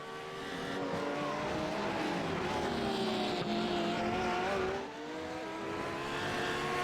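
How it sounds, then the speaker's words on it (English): Race cars in a sim racing game at Lime Rock roar past continuously, layered engine tones rising and falling as several cars fly by close together, loud and steady with a brief dip near the end. "So Steve Lane going to lose another lap there to both Challenger and Janney as they just fly by."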